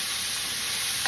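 Salt pork sautéing in a pot, giving a close, steady, dense sizzle and frying hiss for about a second, with no voices.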